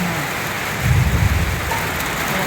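Heavy rain from Typhoon Kristine pours down with flooding below, a loud, close, continuous hiss that swells briefly about a second in, with no talking.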